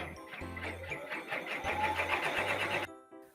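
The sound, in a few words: embroidery machine stitching at 500 stitches per minute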